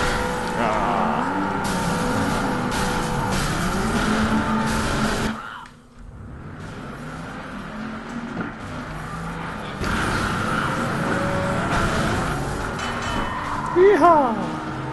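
Car engine revving and boosting in the Flatout: Ultimate Carnage racing game, a sustained whining drone that dips briefly and then surges again, with someone talking over it.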